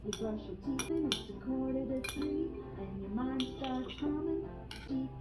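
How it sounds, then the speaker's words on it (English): A utensil stirring instant ramen with chili and soy sauce in a bowl, with repeated light clinks and ringing taps against the dish, close and quiet. "Stir well."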